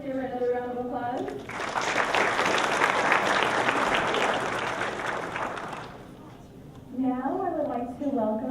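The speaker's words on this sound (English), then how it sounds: "Let's give her another round of applause." Audience applause at a high school senior graduation ceremony: a speaker's voice, then several seconds of steady, dense clapping that stops abruptly, after which a speaker resumes talking.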